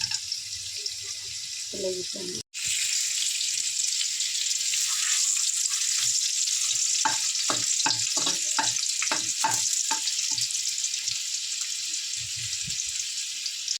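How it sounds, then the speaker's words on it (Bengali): Cardamom, cloves and cinnamon are dropped into hot oil in a home kitchen, giving a steady bright sizzle that runs through the whole stretch, broken once by a brief clatter and accompanied by short stirring or scraping knocks midway. "তেল আমার গরম হয়ে গেছে, দিয়ে দিলাম এলাচ, লং দিয়ে দিলাম, এলাচ দিয়ে দিলাম, মিষ্টি কাঠ দিয়ে দিলাম।"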